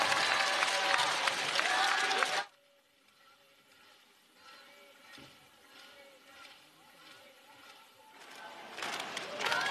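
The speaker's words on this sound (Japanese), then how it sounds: "背番号20番パレル選手に大きな拍手を送りください" A crowd at a women's sports game bursts into loud applause, which cuts off to quiet ambience and then swells again at the end.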